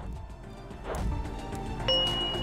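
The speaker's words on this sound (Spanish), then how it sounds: "Toca las campanas de una vez." Bells ringing in the video game Escape Academy, a faint metallic ding followed by a brighter sustained chime tone, heard alone at low level against a quiet game background.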